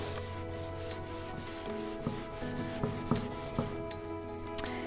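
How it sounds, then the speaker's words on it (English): A cloth rubs hemp oil finish off a wooden furniture surface, making a steady soft dry swishing with faint scuffs and a few light knocks, fairly quiet and close, with no talking. "you start rubbing it on your piece of furniture"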